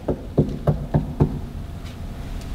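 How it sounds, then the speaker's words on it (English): Knuckles rap on a house door in a quick run of five knocks, close and fairly loud, followed by a short pause and a couple of faint softer taps, with no voices. "He knocked again."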